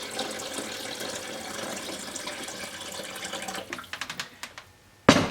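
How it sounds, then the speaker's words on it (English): Filtered water runs steadily into a blender jar that already holds Brazil nuts. The pour ends in a few splashy trickles, then a sharp knock. "I'm going to fill it up to about the 5 cup level with water. This is filtered water."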